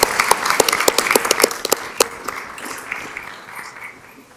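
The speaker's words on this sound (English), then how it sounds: "Let's have one more round of applause for all the wonderful things that are going on in Hanover County" A modest group claps at a county school board meeting, crisp separate claps at first that grow sparse and fade over a few seconds, close and with no talk over them.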